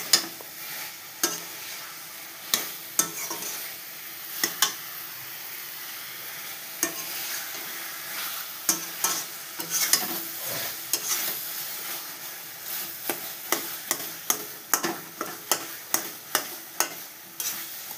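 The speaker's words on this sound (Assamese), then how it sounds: "কচুটো বইল হৈ আছে, এইটো গেছটো বঢ়াই দিছোঁ।" Taro (kochu) boiling in a pot on a gas stove gives a steady bubbling hiss, broken by irregular sharp clinks and scrapes of stirring close by, with no voices.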